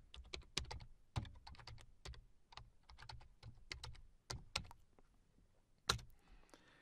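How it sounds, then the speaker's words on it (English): Command being typed on a computer keyboard for a PowerShell download task, a steady run of close, crisp key clicks with short pauses and one sharper tap near the end. "So to use this command, we're going to type Invoke-WebRequest."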